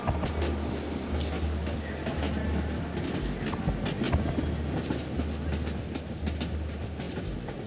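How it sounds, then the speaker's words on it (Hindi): A Mumbai local commuter train rolls along steadily, wheels clattering rhythmically over rail joints, with a loud rumbling carriage hum throughout and no speech. "बंबई की लोकल ट्रेन है"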